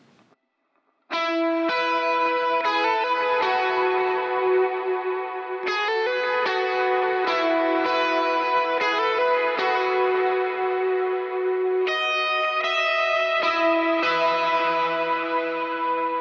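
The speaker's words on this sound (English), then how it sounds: "you get that whole intro lead line, which sounds like this" A distorted electric guitar plays the intro lead line of a worship song, heavy with effects and echo, sustained notes ringing in a continuous melodic phrase, loud and close with no talking.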